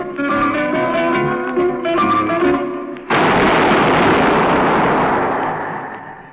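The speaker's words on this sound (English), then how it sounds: "That was the shot that killed Harry Lime." Zither music plays in a radio drama, then is cut off by a loud gunshot sound effect whose booming blast rolls on and slowly fades over several seconds.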